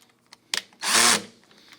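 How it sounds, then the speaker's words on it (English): Power drill fitted with a 5/32 bit, a single short whirring burst of under half a second, loud and close, after a few light clicks. "You need a drill and a drill bit."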